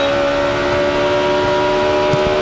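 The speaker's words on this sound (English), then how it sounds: "Hear him floating the throttle right through there." A NASCAR Busch Series stock car at the 2006 Zippo 200 road course race holds a steady, droning engine note as the driver floats the throttle, loud and continuous throughout with no talk.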